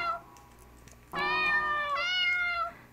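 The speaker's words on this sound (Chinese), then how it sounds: "然后这超可爱的吧，喵喵喵喵喵" A cat meows in the video game Nigete, giving one brief faint mew followed by a clear, drawn-out two-part meow that rises in pitch midway, close and alone.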